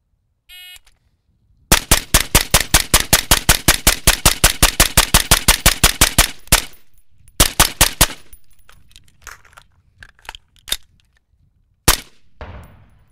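Rifle fire at a 7-meter special ops shooting test: a long rapid string of loud, close shots, then a short burst, a few scattered shots and one final report, with quiet gaps between.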